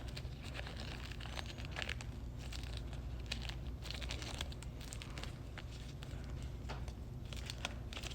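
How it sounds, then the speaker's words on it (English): A rubber balloon is stretched repeatedly by hand, producing a continuous close crinkling, squeaking rubbery rustle with irregular sharper snaps, fairly quiet and without talk. "stretch out the balloon several times"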